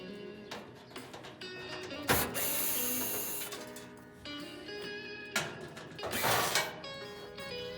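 A ratchet wrench backs out 5/16 screws from the back panel of a clothes dryer, its fast clicking pawl repeating in close bursts with brief pauses between runs, loud and alone.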